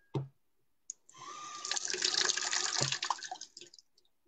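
Water running from a tap to fill a cup, a steady broadband pour lasting a few seconds after a couple of brief knocks, close and fairly quiet, with no talk.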